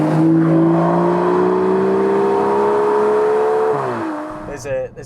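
An Aston Martin DBS Superleggera pulls away with a smooth, loud engine note that rises steadily, then eases off as the car drives on, with a short burst of tire or road noise at the end.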